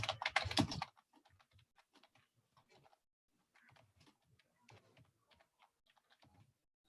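Light typing on a computer keyboard ticks in quiet, irregular clusters of keystrokes after a brief louder burst at the start, with short pauses between runs.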